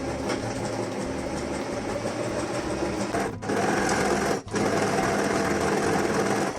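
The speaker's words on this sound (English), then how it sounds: "now I'm going to overlock the hem side" An overlock sewing machine stitches the hem seam of a dress, its steady close whir running continuously and pausing twice in brief dips.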